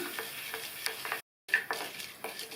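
Urad dal and cumin seeds roasting dry in a pan for ridge gourd chutney give a soft crackling stir with scraping clicks, broken by a brief silent gap before the stirring resumes.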